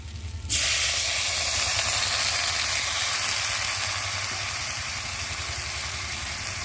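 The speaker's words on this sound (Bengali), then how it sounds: "আর এখন আমি পরিমাণ মতো অল্প করে জল দিয়ে দেবো।" Water poured into a pan of sizzling spice masala with small fish, tomato-based chachchari, sets off a sudden loud steady hiss and sizzle that stays strong and close, with no voices.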